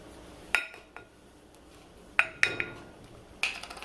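Cornflour batter with paprika being mixed in a bowl, heard as a few sharp, separate clinks and taps of a utensil against the bowl with quiet gaps between them. No one speaks.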